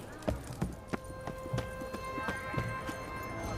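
Roach, the horse in The Witcher 3, gallops in a steady rhythm of close, distinct hoofbeats over a sustained musical drone.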